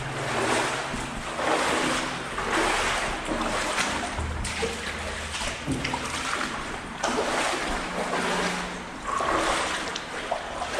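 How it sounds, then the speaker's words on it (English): Water bubbles up and runs over bricks inside a tunnel, a steady rushing, splashing wash that stays close and continuous, with occasional gusty surges. "There's water bubbling up here"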